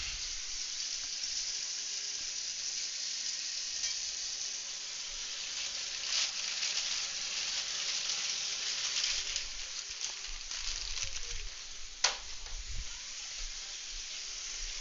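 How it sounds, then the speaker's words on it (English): Meat sears in a hot pan, giving a steady, moderately quiet hiss of sizzling fat with a few sharper crackles and pops toward the end and no talking. "Just getting a good sear on there."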